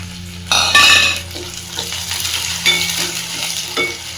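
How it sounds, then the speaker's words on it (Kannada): Cubed capsicum and fresh green peas frying in hot oil in a pan for paneer butter masala: a loud burst of sizzling as they go in, then steady crackle with a few spoon stirs, close and without talk. "ಇದೆರಡು ಎಣ್ಣೆಲಿ ಫ್ರೈ ಆಗಲಿ ಚೆನ್ನಾಗಿ."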